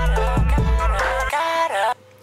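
A vocal line run through a delay effect in FL Studio with the feedback volume turned all the way up, giving a loud, dense wash of layered repeats that cuts off abruptly near the end.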